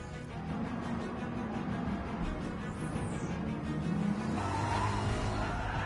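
Race cars roar continuously in Gran Turismo Sport, engines droning steadily with tires squealing and skidding through corners, loud and unbroken for the whole stretch.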